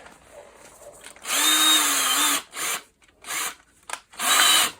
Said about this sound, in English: Now I know where to drill my hole.